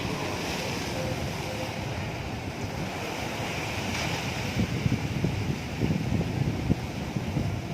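Steady roar of ocean surf at Kanyakumari with gusty wind buffeting the microphone, waves rumbling continuously and growing a bit choppier toward the end.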